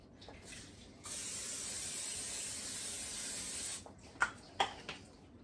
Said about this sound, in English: go ahead and spray my pan